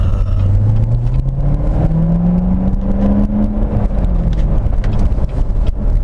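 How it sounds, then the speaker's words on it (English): Loud, close engine note from a 2017 Corvette Grand Sport during a heel-toe downshift: a droning tone swells and climbs in pitch, then falls away over several seconds with steady road rumble beneath. "I was in the heel toe downshift there."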